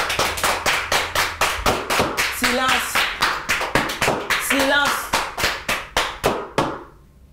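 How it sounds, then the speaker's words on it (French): A group in a mock courtroom claps together in a steady, rhythmic beat of sharp, close claps that slow toward the end and stop. A voice calls out twice partway through. "Applaudissez-moi s'il vous plaît."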